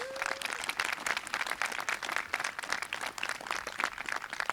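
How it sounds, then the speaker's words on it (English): Steady, fairly soft applause from the audience at the 2021 Spring Hill College Honors Convocation, many hands clapping in a continuous patter heard from across the room. "Give that group a round of applause, please."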